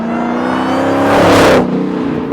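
A powerful supercharged engine, from a Dodge Challenger Hellcat, roars loudly as it accelerates hard toward triple-digit speeds, the whine rising to a peak around a second and a half before easing off.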